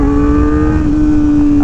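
A Kawasaki ZX4RR motorcycle engine screams at high revs with a loud, sustained, steady whine that dips slightly partway through, heard close and alone.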